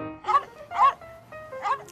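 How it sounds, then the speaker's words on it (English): A dog gives three short yappy barks, evenly spaced and close, with a light tonal background in between. "Hey, cute dog."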